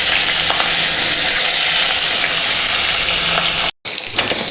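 Rohu fish pieces frying in hot oil give a loud, steady crackling sizzle that runs continuously, then cuts out briefly near the end before resuming.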